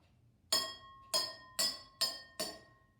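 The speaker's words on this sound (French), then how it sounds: "si je frappe délicatement sur le rebord de mon verre avec la cuillère" A spoon taps the rim of an empty drinking glass five times in a steady, unhurried rhythm, each strike a bright, ringing clink that decays slowly, close and clear with no talk.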